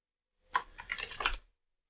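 Quick burst of typing on a computer keyboard while Python code is written, a handful of close, crisp key clicks lasting about a second, with no voices.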